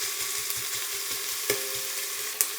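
Onions caramelizing in a pan on high heat, a steady broadband sizzle with a faint regular low tapping underneath and a couple of brief sharper clicks, heard alone with no voices.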